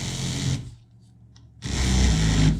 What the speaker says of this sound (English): I'm going to take a oscillating tool and cut the excess off